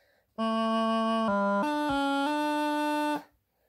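A practice chanter plays a fast D throw, a bright reedy line stepping through a few quick note changes within about three seconds, close and fairly quiet, with no voices.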